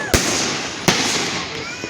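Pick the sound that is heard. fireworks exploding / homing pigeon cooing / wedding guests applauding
fireworks exploding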